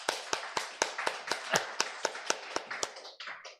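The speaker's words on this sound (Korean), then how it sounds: "우리 환영의 박수 한번 부탁드리겠습니다" A small congregation at a Wednesday evening church service claps to welcome missionaries, about a dozen distinct, fairly sparse hand claps in an even rhythm, close and clear, fading out at the end.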